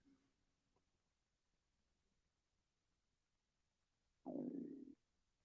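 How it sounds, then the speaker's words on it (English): A stomach growls once, a short, loud, low gurgling rumble lasting under a second near the end, after a long quiet stretch. "That's my stomach growling."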